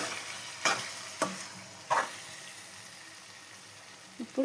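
Ginger paste mixture for brinjal tomato curry being stirred in a pan, a few sharp spoon scrapes and taps spaced apart over a faint background sizzle, close and fairly quiet.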